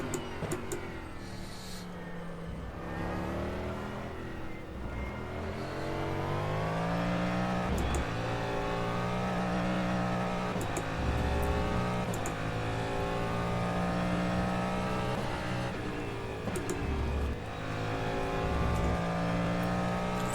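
A race car engine in the rFactor 2 racing simulator drones continuously, its harmonic pitch rising and falling through gear changes as it revs and eases off, steady and fairly loud throughout with no talk.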